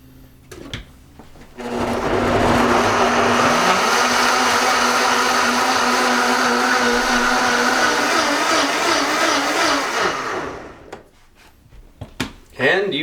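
Blender whirring through a savory green smoothie with half an avocado, a loud grinding motor roar kicking in near two seconds, shifting pitch as contents churn, then cutting off with clunks and brief speech around it.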